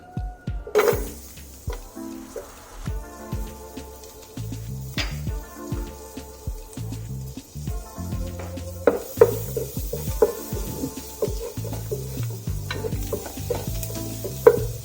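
Garlic fries in melted butter, with a light crackling sizzle broken up by frequent scraping and clinking as it is stirred in a pan, close and uneven in rhythm.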